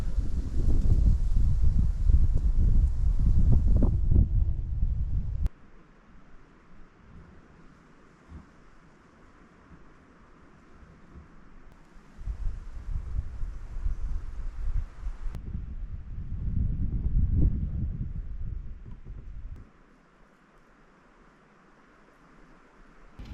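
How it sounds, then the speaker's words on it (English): Strong wind blows outside a remote off-grid cabin in early winter as dark clouds move in, coming in loud roaring gusts that rise and fall, easing to a quieter whoosh between surges. "Now we got some black clouds moving in and the wind is really picking up."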